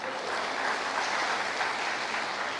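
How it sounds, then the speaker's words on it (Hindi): An audience at a talk breaks into dense, continuous clapping, steady and fairly loud throughout with no speech over it. "चलो भाई लोग ताली बजा दो।"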